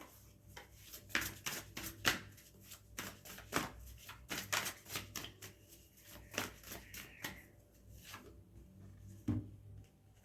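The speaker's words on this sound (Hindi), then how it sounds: "Okay, let me take one card from this deck." Tarot cards being handled and drawn from a deck: a quiet run of crisp papery snaps and flicks in irregular bursts, close and soft, with no one talking.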